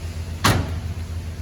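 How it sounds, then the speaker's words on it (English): The entry door of a 2025 Keystone Coleman 26BX travel trailer swings open with a single short latch clunk and swish, heard close over a steady low engine-like hum. "It'll allow you to open up that door."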